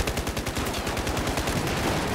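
Rapid automatic gunfire in a Battlefield 4 multiplayer match, a dense, steady rattle of shots repeating quickly and loudly throughout without a break.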